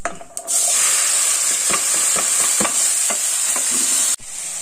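Chopped ash gourd hitting a hot pan of oil with dried red chillies, a loud steady sizzle with scraping stirs and spatula knocks throughout, then a sudden drop near the end; no talking.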